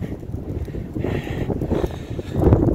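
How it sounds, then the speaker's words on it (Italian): Strong wind gusts buffet the microphone at Passo del Faiallo, a mountain pass, in a loud, continuous rush that swells toward the end, with no voices. "c'è sempre comunque un sacco di vento"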